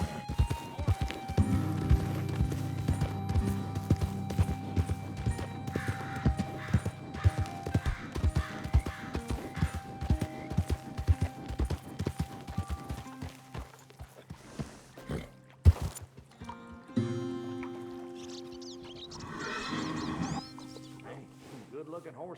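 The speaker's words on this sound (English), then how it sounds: "Good-looking horse there." Video game horse hooves clip-clop in a steady trot, then slow and stop, followed by a horse's snort; a voice speaks briefly over the sounds. From Red Dead Redemption 2.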